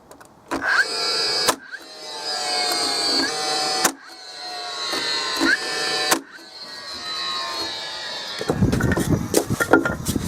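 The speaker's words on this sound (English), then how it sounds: "Because the insulation is not very heavy, I can use the framing nailer." Sharp, loud nail-gun shots from a framing nailer fire one at a time as wooden strips are fastened to a shed base frame, with about five bangs spaced irregularly over steady mechanical hum, ending in rougher shuffling noise.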